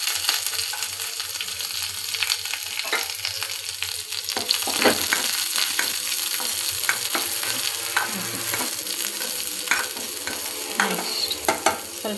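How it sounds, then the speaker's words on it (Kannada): Onions sauté in a hot pan with a dense, steady sizzle, and a spoon stirs and scrapes through them at intervals, close and fairly loud with no talking. "ಸ್ವಲ್ಪ ಹಸಿ ವಾಸನೆ ಹೋಗೋವರೆಗೂ ಬಾಡಿಸಿ."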